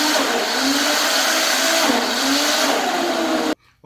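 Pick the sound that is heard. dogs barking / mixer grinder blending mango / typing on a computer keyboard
mixer grinder blending mango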